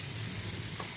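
Onion fries in a pan for Afghani chicken pulao, making a brief, soft, even sizzle close by with no talking.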